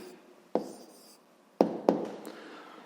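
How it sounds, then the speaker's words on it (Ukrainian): A pen writing an answer by hand on paper, a few short strokes and taps separated by pauses, quiet and close, with no talking. "Ну що ж, записуємо тоді відповідь."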